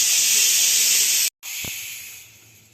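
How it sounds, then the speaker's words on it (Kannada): A pressure cooker with vegetable kurma inside vents a loud, close hiss of steam that cuts off for an instant, then resumes and slowly fades. "ಕ್ಲೋಸ್ ಮಾಡಿ 2 ವಿಷಲ್ ಹಾಕಿಸ್ತೀನಿ. ಇದು 2 ವಿಷಲ್ ಹಾಕ್ಸಿದ್ರೆ ರೆಡಿ ಆಗುತ್ತೆ."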